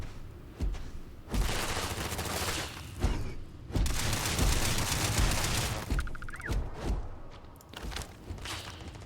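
Sustained gunfire and booming blasts in the video game Starfield, dense bursts roaring almost continuously for several seconds with short gaps, loud and close, with a rattling automatic stretch near the end.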